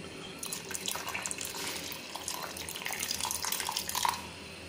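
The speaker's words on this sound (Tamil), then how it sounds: "இப்போ புளி தண்ணி சேர்த்துக்கலாம்." Tamarind water poured into a pot of sambar while cooking: a continuous splashing, trickling pour that swells and ebbs for several seconds, close and moderately loud, alone without speech.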